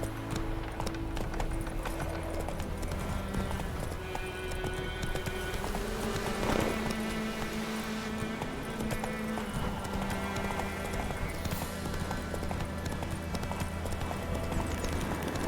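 Steady clip-clop of horse hooves in The Witcher video game over a low ambient music bed, rhythmic and continuous, with a brief whinny midway.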